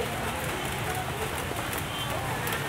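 Rain falls steadily at a traditional village market, a dense hiss of drops on surfaces, loud and continuous, with people talking under it.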